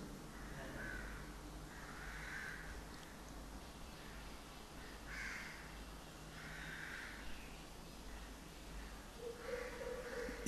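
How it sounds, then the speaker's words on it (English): A crow caws repeatedly in the distance, faint regular calls spaced every second or so over a hushed, noisy outdoor background. "It's a brown crow."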